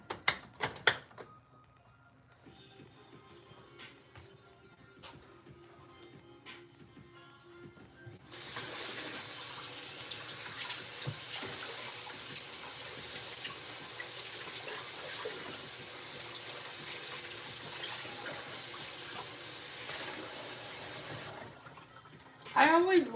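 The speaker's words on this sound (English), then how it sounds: "And then we're gonna start some water back here for the macaronis." Kitchen tap running steadily as a pot fills with water for macaroni, a loud continuous rush that starts partway through after quieter kitchen clatter and stops near the end.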